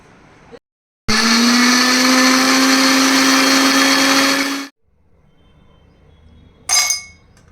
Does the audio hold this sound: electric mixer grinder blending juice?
yes